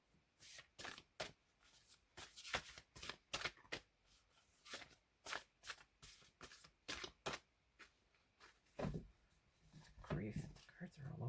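Tarot cards are riffled and shuffled by hand in a quick series of crisp, close bursts with short pauses between them, repeated many times, with soft talking in the background.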